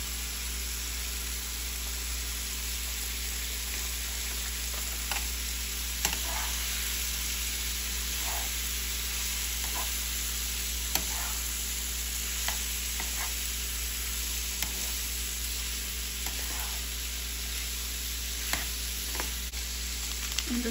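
Chopped meat frying in a pan for calabacitas, giving a steady, loud, close sizzle that runs unbroken throughout, with occasional faint clicks and stirring taps on top.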